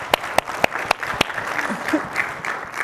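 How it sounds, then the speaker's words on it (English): A small tech conference audience gives brief applause, with a handful of sharp, separate claps at the start that fade into a soft, scattered patter under light background murmur. "Round of applause!"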